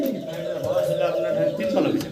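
Soft cooing from a pair of Bombay pigeons runs steadily through the clip, with people talking over it the whole time.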